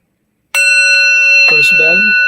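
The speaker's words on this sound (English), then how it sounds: "first bell" A meditation bell is struck once with a loud, bright ring that sustains steadily, and a person begins speaking over the lingering tone.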